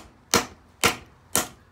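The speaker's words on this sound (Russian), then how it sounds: "давайте посмотрим, как кованая сталь будет себя вести при прорубании 5-рублевой монеты" Three sharp metallic strikes from a wooden mallet driving a forged steel knife through a five-ruble coin, spaced about half a second apart, each a hard crack with a quick ringing decay, loud and close with no talking.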